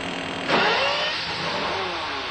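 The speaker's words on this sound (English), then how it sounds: "the engine came to life and then screamed for the first time." A Bugatti EB110 supercar engine roars up in a sudden rev, a loud rising mechanical howl that swells at once and then holds a steady high drone, with no voices over it.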